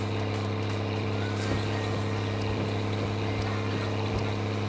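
Car engine droning in the video game My Summer Car, a steady low hum held at constant level with faint ambient layers and no talking.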